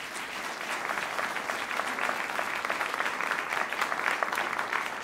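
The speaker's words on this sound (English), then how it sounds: "Let's give them both a round of applause." Sustained applause from an audience at a NASA employee awards ceremony, dense rapid clapping at an even level throughout.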